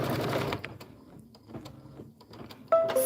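A Kimberbell embroidery machine stitches the center of a beehive design in a Blossom Beehive block, a close, busy mechanical whir with small rattles and a sharper high whine near the end, no one speaking.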